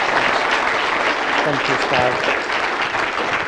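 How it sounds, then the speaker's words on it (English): Audience applause fills the room at a talk, steady and loud throughout, with a speaker briefly offering thanks over it. "if we could just give a round of applause"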